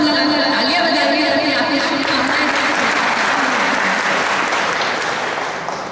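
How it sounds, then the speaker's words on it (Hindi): Audience applause at an educational exhibition, loud dense clapping from a large gathering that carries on steadily and fades slightly at the close. "तो आप सब लगाकर तालियां बजाइए ताकि आपकी शुभकामनाएं।"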